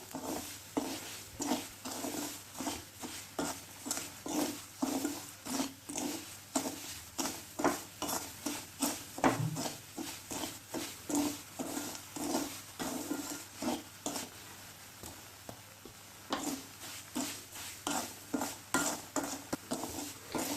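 Semolina halwa stirred continuously in a pan over a medium flame, with a spoon scraping in a quick, regular rhythm of soft scrapes and taps against the pan, with no voices.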